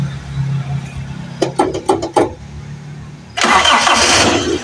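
A carbureted motorcycle sits idle for a long time, then its starter churns in a few quick bursts before the engine catches and runs loudly up close.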